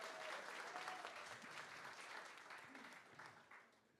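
An art auction audience claps and cheers together in a faint, continuous burst that tapers off at the end.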